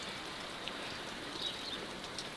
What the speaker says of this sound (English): This light rain does the job very well.